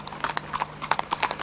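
Horse hooves clip-clop quickly on a hard surface at an endurance riding event, a close, uneven rhythm of sharp knocks at a brisk pace throughout the short stretch.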